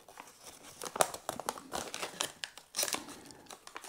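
Crinkling and rustling of a small folded paper installation manual being opened for a Bseed smart switch, a run of close, irregular crackles and soft tearing-like rasps with brief sharper snaps, no voices.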